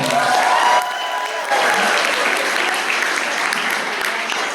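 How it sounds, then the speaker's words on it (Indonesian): Congregation applauding during a church Easter service, steady clapping from a crowd filling the room, loud and continuous with a brief dip partway through. "kita panggil dengan tepuk tangan yang meriah"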